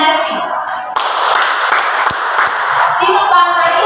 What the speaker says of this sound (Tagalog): Mahusay, bigyan niyo ng 5 palakpak si Danesi.